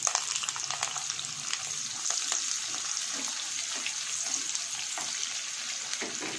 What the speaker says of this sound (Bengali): পেঁয়াজ দিয়ে পেঁয়াজটাকে একটু ভাজবো। পেঁয়াজটা ভাজা হচ্ছে